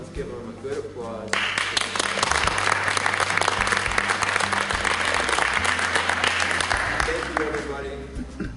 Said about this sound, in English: let's give them a good applause.